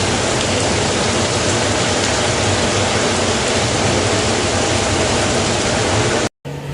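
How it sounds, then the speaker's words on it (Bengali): Heavy rain pouring outside a house, a dense, steady roar that stays loud and unbroken for several seconds before cutting out abruptly near the end. "আর বাইরে দেখো কত পরিমাণে বৃষ্টি"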